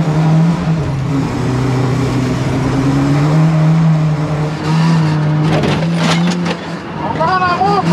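A Lada race car's engine drones steadily at speed, its faulty water pump rattling amid the mechanical noise, with engine pitch rising and falling near the end.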